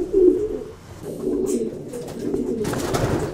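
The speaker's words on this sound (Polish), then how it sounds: "Tu mamy następnego gołębia," A racing pigeon coos in low, soft rolling calls, close by in a quiet loft, with faint rustling and a brief higher sound partway through.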